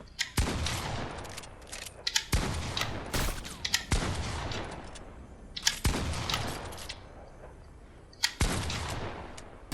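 Pump shotgun in Fortnite firing single heavy blasts, about five spaced a couple of seconds apart, each followed by a short rattling pump and reload tail, loud and close with no talk.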